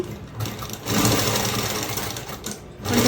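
A sewing machine stitches fabric for an umbrella-cut hand design, a continuous close, whirring mechanical drone with a slight dip and restart near the end.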